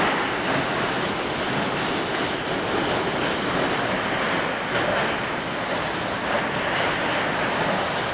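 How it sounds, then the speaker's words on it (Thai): Heavy rain mixed with hail pounds down steadily in a strong wind during a summer storm, a dense, continuous roar that stays close and loud throughout with no talk. "บริเวณรอบนอกฝนแรงเมื่อกี้ตอนเริ่มต้นฝนมีแต่ลมนะลมแรงมากตอนนี้ลูกเห็บ"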